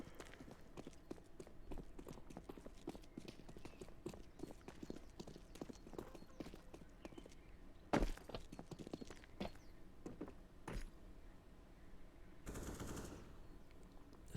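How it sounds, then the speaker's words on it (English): Rapid bursts of pistol and SMG gunfire ring out in a competitive 3v3 video game match, with dense clusters of sharp shots and a few louder cracks mixed with steady background action. "Renax really picking apart these SMGs early with these pistols."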